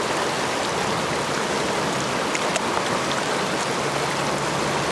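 A small mountain creek swollen with cold spring runoff rushes continuously nearby, a dense, even wash of splashing water with no voices.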